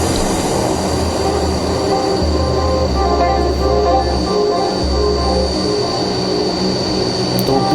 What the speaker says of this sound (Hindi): पूर्वांचल एक्सप्रेसवे में टच एंड गो ऑपरेशन के तहत AN-32 इसकी लैंडिंग दिखाई गई